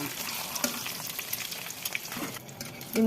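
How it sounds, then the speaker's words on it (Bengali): Eggs frying in hot oil with a pinch of turmeric in a pan give a steady, close, crackling sizzle that runs throughout, with no voices. "ডিমগুলো এখন উল্টাই দিয়ে করে দিয়ে ভাজি নেব।"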